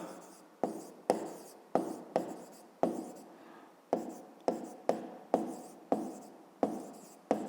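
Handwriting on a board or paper during a 5th-grade maths lesson, about a dozen sharp, evenly spaced strokes, each starting with a crisp scratch that fades, close and clear.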